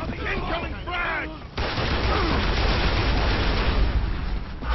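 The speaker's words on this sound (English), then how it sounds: "Incoming, incoming frag!" A frag grenade blasts amid gunfire during a ranked free-for-all match of Gears of War: Judgment, a loud sustained roar of explosion and shots following a shouted warning from a player.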